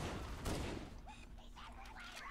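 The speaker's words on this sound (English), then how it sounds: "See how much that plasma bolt tracks that elite" A plasma pistol bolt fires at an Elite in Halo, a short burst of sizzling energy near the start that quickly fades, followed by softer game sounds and a voice.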